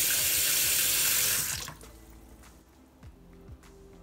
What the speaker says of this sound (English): All right, guys, turn the water back on under the sink and let's try this.